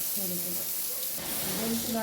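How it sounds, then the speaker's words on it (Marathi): Flattened rice poha is tipped into hot tempering oil for homemade Diwali chivda, giving a steady, bright sizzling hiss close by, with a voice talking over it. "पोहे त्या फोडणीत टाकून घ्यायचं"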